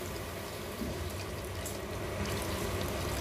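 A glass of mineral water poured into a pan of sautéed shrimp paste while cooking pakbet, a steady close hissing splash and sizzle that grows slightly louder toward the end.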